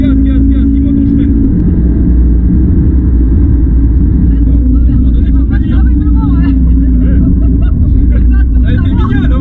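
An Audi RS3 with 400 hp pulls hard on a race circuit, its engine a loud, steady in-car drone throughout.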